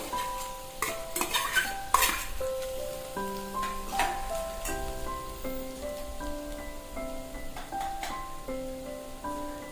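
Boiled, peeled and hand-smashed potatoes are stirred into a spicy vada rasa gravy in a pot, with a soft scraping stir and a light sizzle under steady background music.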